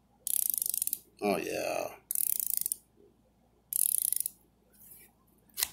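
A Steelman Pro 3/8 and 1/2 inch ratchet clicks in three quick bursts of fine, rapid pawl ticks, close and crisp, with a brief spoken exclamation between the first two bursts.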